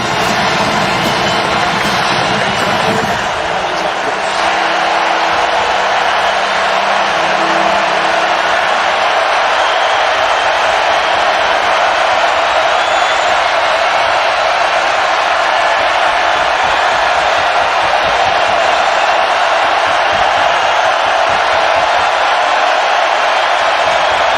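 A football stadium crowd at a Clemson vs North Carolina game swells into a loud, sustained roar that fills the space, with cheering and whoops blending into a dense continuous wall of noise.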